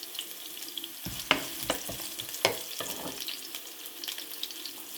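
Ingredients for a potato and meat mufarakeh softening in a pan over lowered heat, a soft frying hiss punctuated by several scraping clicks of stirring, close and without speech.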